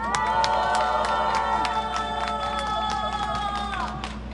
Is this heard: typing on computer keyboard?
no